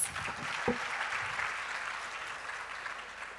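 Audience applause in a hall at the opening session of a women-in-STEM event in Africa, steady dense clapping throughout, with a brief voice-like sound near the start.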